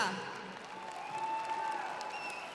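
Audience applause at a Dazhynki harvest festival in Vitebsk, greeting circus studio performers from Orsha; steady, moderately distant clapping from a crowd, fairly even throughout, with no speech over it.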